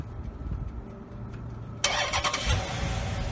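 A Chrysler 300 SRT8 fired by its remote starter: a quiet stretch of low rumble, then the engine cranks and catches abruptly, settling into a loud, throaty idle close by.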